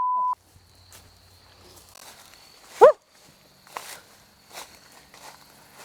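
A dog barks once, distant and brief, in the woods. Footsteps crunch through the undergrowth around it, and there are a few other faint outdoor noises.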